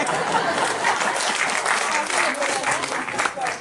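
A steady burst of applause from a crowd at a poetry gathering in Kashiram Hall, Thane, many hands clapping at once, dense and sustained throughout without a break.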